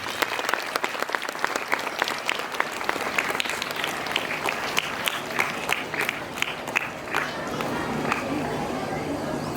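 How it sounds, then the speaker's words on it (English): Applause from the audience at a school Teacher's Day celebration, with many hands clapping steadily and some crowd murmur underneath, easing slightly toward the end. "So let's give them a big round of applause."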